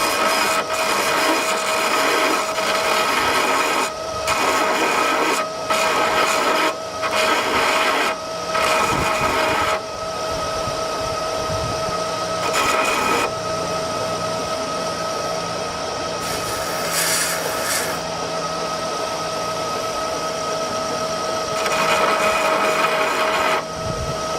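A Burr King belt grinder fitted with an 80 grit belt runs at slow speed for internal grinding, giving a steady, loud whine and rushing abrasive noise with brief changes in pitch as the work is pressed against the belt.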